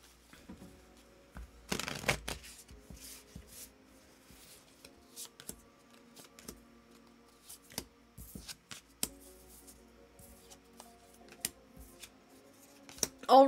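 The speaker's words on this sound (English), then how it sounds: "We're gonna shuffle." Tarot cards shuffled by hand at close range, a sharp riffling burst followed by scattered soft slaps, flicks and taps of the deck, quiet and intermittent with no talking.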